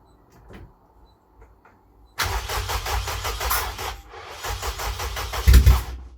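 A K-swapped Honda Civic EJ9 engine catches and settles into a loud, steady idle, rough and pulsing, with a brief louder rev near the end.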